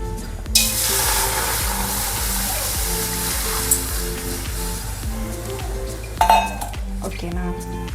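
A cooking pot is handled with metallic clinks and clatters while about two glasses of water rush into it for Maggi noodles, ending with a few louder knocks of metal against metal.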